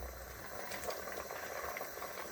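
Meat simmering in a pot for egusi soup, a faint, steady bubbling hiss with small pops, with no voices.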